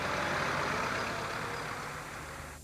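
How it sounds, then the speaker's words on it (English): A tractor engine carrying paramedics through floodwater, a steady, low, rumbling drone with a broad hiss, moderately loud at first and gradually fading, no voices. "These paramedics abandoned their ambulance in favour of a tractor."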